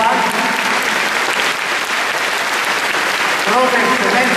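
Sustained applause at a gymnastics medal ceremony after an apparatus final, a dense steady clapping that fills the whole stretch at close range with a faint crowd murmur underneath.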